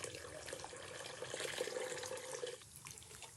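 Water pours steadily into a fog cauldron with a continuous, close, splashy rush. It cuts off near the end and leaves a quieter trickle.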